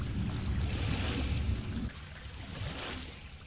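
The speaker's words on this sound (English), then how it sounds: "the amount of water I'm pushing around right now is freaking me out" Water sloshing and churning as a player character wades through endless flooded pools in a liminal-space video game, a steady low wash that drops quieter partway through and continues softly.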